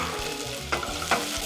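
Sliced shallots fry in olive oil in a small saucepan, a steady broadband sizzle with two brief louder stirring scrapes partway through.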